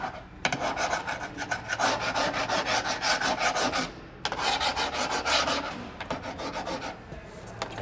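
A hand tool scrapes leftover thinset out of the grout lines of a herringbone tile backsplash, giving close, continuous rasping strokes in a quick steady rhythm with two brief pauses.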